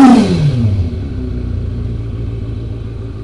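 A Kawasaki ZRX II motorcycle's water-cooled four-cylinder engine, muffler fitted, drops from a rev into a steady, throbbing idle, loud and near, with no voices.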